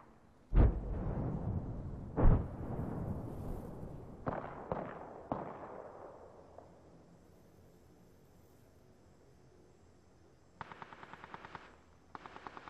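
Gunfire in Apex Legends: two heavy close shots up front, then scattered sharper reports fading off, with a rapid burst of automatic fire near the end.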